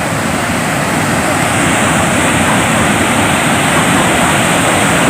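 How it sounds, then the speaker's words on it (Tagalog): Powerful floodwater current rushes over an overflowing bridge, a loud, steady broadband roar that holds unbroken throughout with no voices. "yung agos ng tubig, sobrang lakas talaga."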